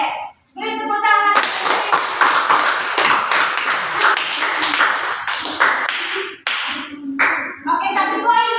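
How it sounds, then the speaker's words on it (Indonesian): A classroom of children clapping together, steady and loud for several seconds, with brief children's voices before and after the applause. "Oke, beri tepuk tangan."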